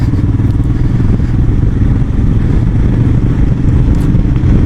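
A 2019 Royal Enfield Himalayan motorcycle riding down a country lane, its single-cylinder engine thumping in a loud, steady low rumble from close by, with no talking.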